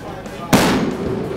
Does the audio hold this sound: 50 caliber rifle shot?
yes